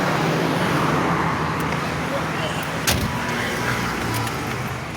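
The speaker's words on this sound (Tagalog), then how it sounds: "Tayo rito sa kotse." Steady road rumble and engine drone fill the cabin of a moving car, with a brief thump near the middle and people talking over the noise.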